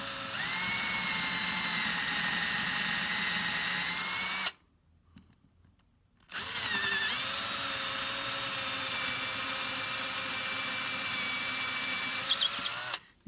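A power drill bores out screw holes in the wood of a guitar fretboard, whining at a steady high pitch for about four seconds, pausing briefly, then running again for several seconds before cutting off. Close and loud, with no voices.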